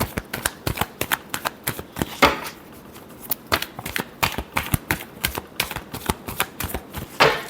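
Tarot cards are shuffled by hand in a steady series of crisp, papery riffling snaps, close and distinct, with a brief pause partway through before the rhythm resumes.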